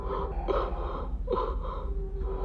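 Gasping, labored breathing from a movie scene, a few ragged breaths and sharp intakes close up over about two seconds, with no talk.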